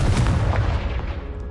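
In Hogwarts Legacy a Confringo fire blast spell hits with a heavy rumbling boom that rolls and crackles briefly, then fades over a second and a half, with no voices.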